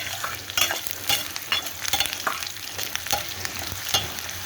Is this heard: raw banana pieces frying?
yes